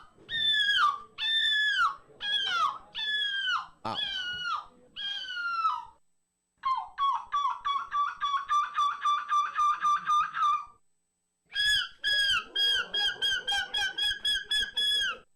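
Humans imitating seagulls at a gull screeching contest, giving loud, close, repeated shrill squawks in rapid bursts separated by short pauses, with a brief spoken exclamation.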